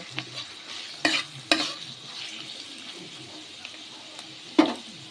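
Chopped carrots are stirred in oil in a wok for street-style egg chowmein, with a few sharp scraping clacks of the spatula over a low background sizzle.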